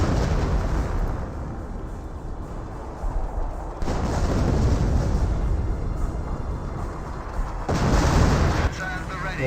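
Artillery shells land in a Company of Heroes match, a dense, continuous rumble of explosions with louder bursts near 4 and 8 seconds, all under the game's battle noise.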